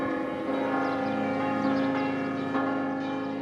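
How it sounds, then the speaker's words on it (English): Church bells ringing together at noon across Gozo, Malta, their overlapping strikes blending into a sustained, resonant peal that hangs in the air without pause. "Bells echo throughout the entire island and become a beautiful song"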